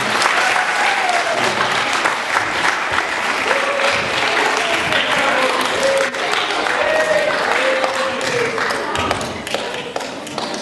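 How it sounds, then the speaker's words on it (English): A school audience bursts into loud, sustained applause at an anti-bullying program, dense clapping filling the room for the full stretch with a few shouts and voices mixed in. "Give a round of applause, guys."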